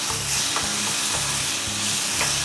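Onions and tomatoes sizzle steadily in a hot pan as they are sautéed, a continuous bright frying hiss with soft scraping strokes of stirring, close and loud.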